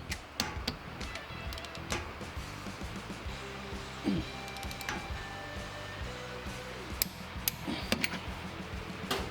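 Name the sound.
torque wrench clicking on differential brace bolts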